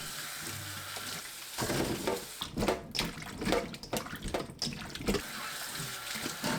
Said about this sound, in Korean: 시간이 지나면 3번 문지르면서 씻어줍니다